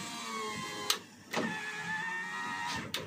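A 2023 Toyota Avanza G 1.5 automatic's power window whirs as it moves, with a few sharp clicks and thumps as the motor starts and stops, fairly quiet and close.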